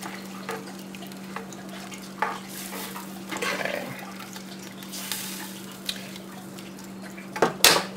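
A pan sauce for lamb chops, seasoned with bay, rosemary and thyme, is stirred over a steady low hum, with soft scraping and faint sizzling, then a brief utensil clatter near the end.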